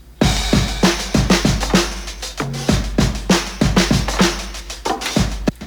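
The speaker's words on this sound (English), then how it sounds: "A little bit of percussion, some shakers," A groove of percussion with crisp hand claps and shaker hits over a booming kick pattern, steady and upfront, no voices.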